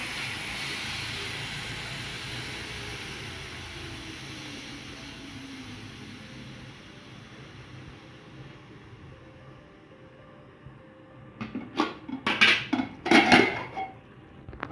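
A pressure cooker of mutton is opened after whistling and cooling: a fading steam hiss gives way to several close metallic clanks and scrapes of the lid and pot near the end.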